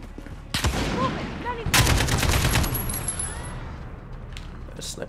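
Gunfire in Modern Warfare, close and sharp: a couple of single shots followed by a rapid burst of automatic fire around the second mark, then metallic tinkles and a fading tail with one faint later shot.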